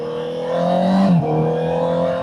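A 2023 Honda CBR650R motorcycle fitted with a Vandemon exhaust, freshly tuned, revs in a short steady burst with a brief pitch swell midway, loud and close, with no talk over it.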